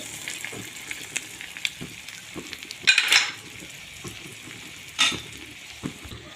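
Paneer and capsicum sabzi cooking in a pan for tawa paneer, a low steady sizzle broken by spoon scrapes and clinks, with a couple of louder stirring bursts and no voices.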